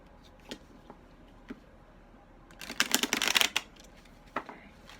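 A deck of oracle cards is shuffled in one quick rustling burst in the middle, with a few soft isolated card taps and flicks before and after in a quiet room.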